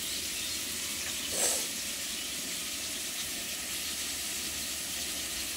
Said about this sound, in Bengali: দেখো, ঝিঙে ভাজা হচ্ছে, কতটা ঝিঙে